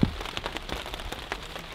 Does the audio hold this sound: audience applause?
no